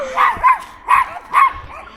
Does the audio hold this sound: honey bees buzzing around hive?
no